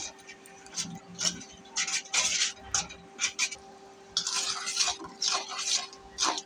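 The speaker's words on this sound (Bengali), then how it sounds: "এখন মরিচের গুঁড়া, ধইনা গুঁড়া, লবণ এগুলো ছেড়ে দেবো। ছেড়ে দিয়ে ভালো করে কষাবো।" Chili powder, coriander powder and salt stirred with a little water in a pan, a spoon scraping and clinking against the metal in irregular bursts, close and fairly loud with no voices.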